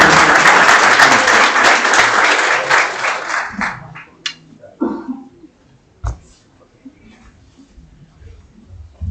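Dense audience applause welcoming a speaker at a road-safety lecture in Ecuador, loud and sustained for about four seconds, then thinning into scattered claps and a brief voice.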